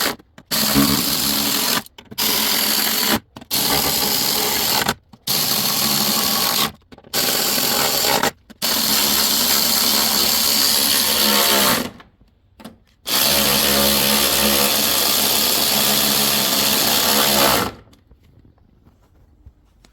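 A power tool spinning out bumper bolts on an ATS-V car, loud close whirring in several short bursts separated by brief pauses, then two longer sustained runs before cutting off into quiet.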